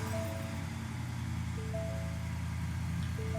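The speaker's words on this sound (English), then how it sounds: "Sounds pretty good for a V8 with the stock muffler and all." A Ford F350 with a 7.3L V8 and stock muffler idles steadily close by, producing a low, even rumble with a faint higher whine over the top and no one talking.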